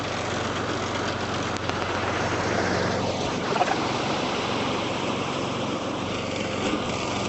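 EGO-powered Cobra Fortis 14E battery scarifier verticutting a lawn, a steady close whirring and rasping drone that runs continuously without pause; no talk.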